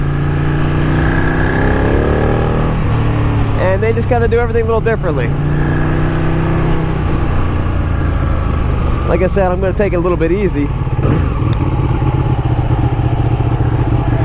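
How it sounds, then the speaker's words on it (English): Ducati 200hp superbike engine running with a steady loud rumble throughout and two brief rises in pitch, while someone talks over it close to the microphone. "So you'll notice a very distinct sound coming out of Ducatis."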